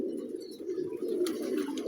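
A flock of pigeons coos steadily in soft, overlapping low murmurs, close and fairly even throughout the two seconds, with no voices.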